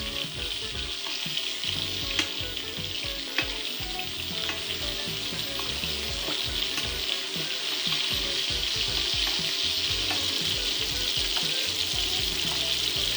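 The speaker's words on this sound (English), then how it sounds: "Have them slightly sear on the other side. As this happens, a good time to introduce our butter. Baste this fish." Salmon fillets sear in a hot pan as butter goes in for basting, giving a dense, steady sizzle and spatter with a few sharp pops, close and continuous throughout.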